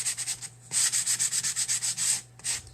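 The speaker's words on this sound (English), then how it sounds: "I have this sanding block from the Dollar Tree" A Dollar Tree sanding block rubs back and forth around the edges of a craft pumpkin in quick rhythmic strokes, a close raspy scraping repeated about a dozen times with a brief pause.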